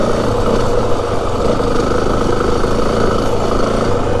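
A 2025 Yamaha WR 450F dirt bike engine lugs in a higher gear on rough trail riding, giving a loud, steady, low rumbling chug with no breaks.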